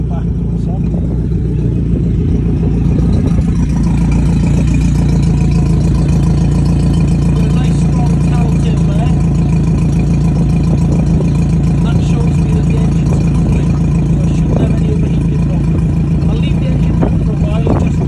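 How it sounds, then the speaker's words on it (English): A boat engine idles just after starting, a loud, steady low drone with an even mechanical hum that holds unchanged, close up, for the whole stretch. "I'm now just going to start the engine."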